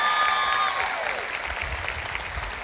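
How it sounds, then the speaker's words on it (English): An audience at a church interview event breaks into applause, a dense steady clapping that follows a fading sung or tonal sound at the start and continues at moderate loudness. "give them a little round of applause"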